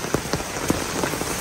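Steady rain falls on a house in the Vietnamese northwest highlands, with irregular heavier drops tapping the roof and surfaces close by over a continuous wash of rainfall; no voices.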